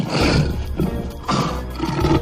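A lion in an animated Hindi children's fable roars twice, loud and close, the deep growling bursts filling the scene with no speech.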